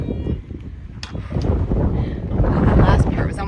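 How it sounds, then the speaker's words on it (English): Strong desert wind on a hiking trail near Cabazon, blowing as a steady rough gusting rush across the microphone that swells toward the end, with no speech over it. "Super windy still."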